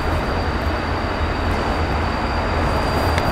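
A Norfolk Southern freight train with an SD60M locomotive rolls past at a rail yard near a river bridge, producing a loud, continuous rumble and rushing clatter of wheels, close by, with no voices.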